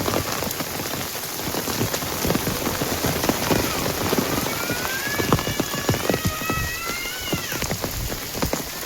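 A downpour soaks a village yard, dense steady rain hissing and pattering close by, with a faint distant rumble of thunder and a brief high tonal sound partway through.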